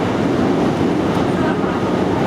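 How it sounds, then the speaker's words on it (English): Subway train rumbling steadily past in New York City during an outdoor Broadway anniversary event in Times Square, a loud continuous low roar throughout. "Really, I'm competing with the subway?"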